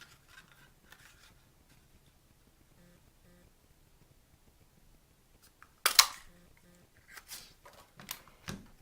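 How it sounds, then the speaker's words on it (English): A word window punch cutting a shape out of a stamped paper card gives a single sharp, close snap, followed by light paper rustles and taps in an otherwise quiet room. "I'm going to bring in my word window punch"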